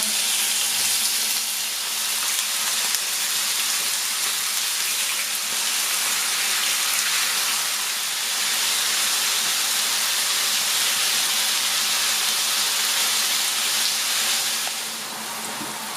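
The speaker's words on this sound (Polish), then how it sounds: "No olej nam się już rozgrzał i będziemy smażyć kurczaczka." Steady, loud sizzling and hissing of chicken frying in hot oil, continuous for the whole stretch with no talking.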